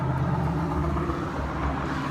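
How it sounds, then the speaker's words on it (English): A big truck passes by, a steady low rumble rolling under the scene at moderate distance with no talk over it. "Oh, big truck."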